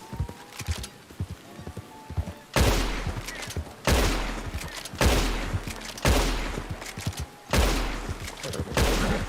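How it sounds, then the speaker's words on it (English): Rapid bursts of gunfire ring out in a Red Dead Redemption 2 roleplay session, with a handful of loud, sharp shots spaced a second or so apart, each trailing off in an echo, and faint hoofbeats in between. "God, I'm missing these shots barely. They're like whizzing past his head."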